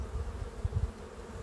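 Honey bees buzz at an open hive with a low, steady hum close by, swelling briefly in a couple of louder pulses.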